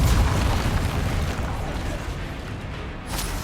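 Spell blasts from the video game Hogwarts Legacy burst in a continuous barrage of loud, overlapping booms and crackling explosions that roll on without pause.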